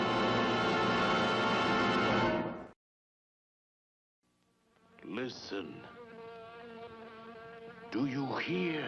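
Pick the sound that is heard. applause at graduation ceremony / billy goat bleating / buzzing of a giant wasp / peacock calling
buzzing of a giant wasp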